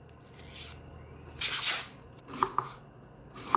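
A Wusthof 3.5 inch paring knife slices through an onion in a few crisp, close cuts, with short sharp crunches between quiet pauses and no speech.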